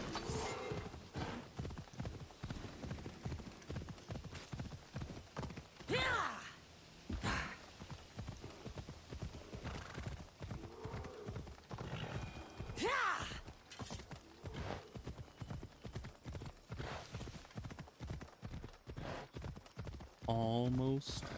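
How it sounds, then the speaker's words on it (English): Horse hooves clip-clop at a steady galloping rhythm in Assassin's Creed Odyssey, running through hilly terrain, continuous and moderately loud under game ambience with occasional other effects. "we're just gonna get the horse"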